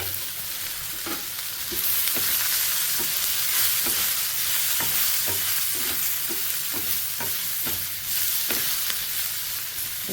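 Brinjal frying in a pan with pepper is stirred steadily, a continuous loud sizzle broken by regular scraping clicks of the spoon against the pan, close up, with no one talking.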